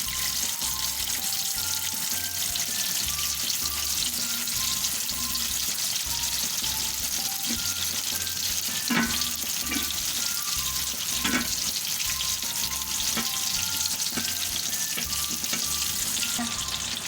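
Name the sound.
gola kebabs frying in oil on medium heat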